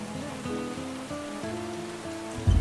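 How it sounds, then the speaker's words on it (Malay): Heavy rain pours down steadily and loudly at close range, a dense, continuous hiss, while a faint melodic tone sounds beneath it in this dramatic scene. "hujan lebat ni"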